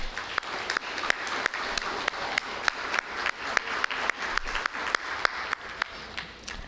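Round of applause for facilitators at a city community policing forum, dense steady clapping from an indoor crowd, sustained and moderately loud with no talk.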